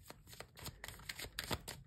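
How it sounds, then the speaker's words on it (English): A tarot card deck being shuffled by hand, a run of quick papery riffles and slaps in uneven bursts, close and fairly quiet, with no talking. "I'm gonna shuffle the deck four times."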